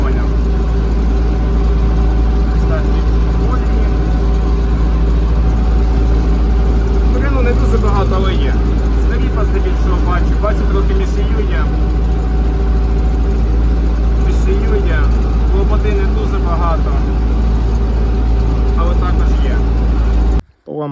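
A tractor towing a sprayer with a bent boom drives through a sunflower field, its engine droning steadily throughout while someone talks over the rumble.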